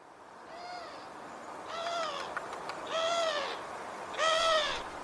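Four drawn-out, rising-falling calls of a Eurasian collared dove, each about half a second, repeated at steady intervals over a quiet background, growing louder toward the end.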